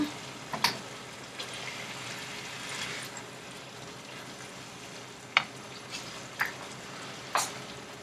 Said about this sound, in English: Add an oxo cube, salt, sugar. Give that a good stir.